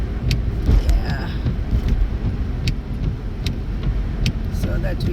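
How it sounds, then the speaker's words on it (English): A car travels slowly along a snowy highway at about 40 mph, with a steady, close interior rumble of engine and tyres and faint ticking, while people talk over it. "We're still on the highway. We are allowed to do at least 60, but we are doing 40 because of the snow business."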